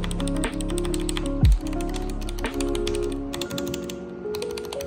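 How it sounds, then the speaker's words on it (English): Rapid typing on a mechanical keyboard fitted with KBDfans keycaps, steady clicky keystrokes running close and clear throughout, with a few heavier thumps along the way and no talking. "So this keyboard sounds beautiful."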